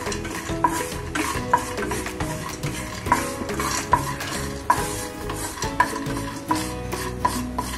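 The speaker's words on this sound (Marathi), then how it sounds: "शेंगदाणे भाजलेलेच आहेत हे, त्याला नुसतेच आपण थोडंसं शेकवणार आहोत." Already-roasted peanuts are stirred and lightly warmed in a pan while making an amaranth and dry-fruit laddu: a busy, continuous scrape and rattle with regular stirring strokes over a soft sizzle, and no talking.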